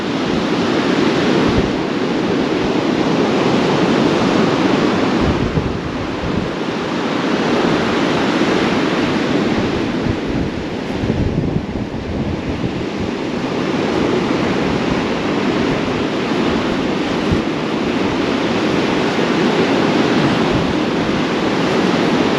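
Strong coastal wind roars and buffets the microphone over breaking waves at Kilnsea, a loud, unbroken wash of noise with gusting swells throughout.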